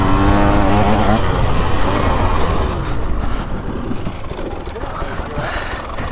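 A 2024 KTM dirt bike engine chugs up steep ground in Africa, its loud, close, labouring note rising and wavering under a rider's talk.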